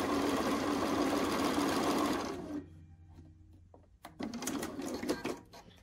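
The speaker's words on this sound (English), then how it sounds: "It really helps me sew a straighter seam" A sewing machine stitches a seam on a Friendship Star quilt block, a rapid close whirring chatter for about two seconds that stops, followed by quieter clicks and a second short burst of stitching.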